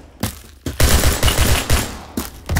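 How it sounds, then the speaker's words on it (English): Rapid bursts of machine pistol fire in the shooter game Phantom Forces, several short loud volleys in quick succession with brief gaps between. "What is this? A machine pistol?"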